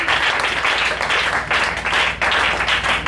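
A church audience applauds and cheers an apostle being welcomed, steady dense clapping filling the room with brief surges, loud and continuous throughout.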